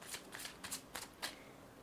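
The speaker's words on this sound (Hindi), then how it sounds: "एक बार और शफल करते हैं" Oracle cards being shuffled by hand, five or six quick crisp riffling bursts in an even rhythm, close and fairly quiet with no voice.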